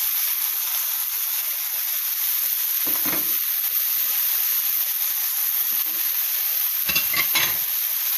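Chicken frying in a pan with onion and tomatoes, a steady bright hiss of sizzling oil throughout with a couple of faint stirring clicks, close and without voices.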